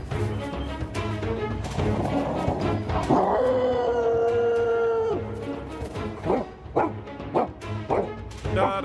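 Large Tibetan mastiff-type dogs fight, with loud close barking and yelping giving way to a long sustained howl, then sharp staccato barks and snarls at the end.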